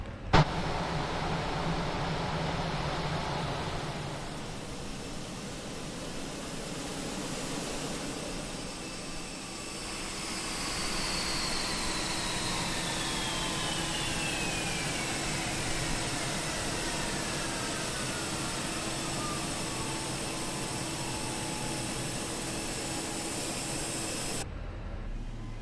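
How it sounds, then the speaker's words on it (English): Fenix A320 jet engines spool down after shutdown in a flight simulator, a broad whine and roar heard from the wing, with a falling tone sweeping slowly downward over about twenty seconds before cutting off abruptly. "I think I like the shutdown sound better on the wing view than I do on the exterior"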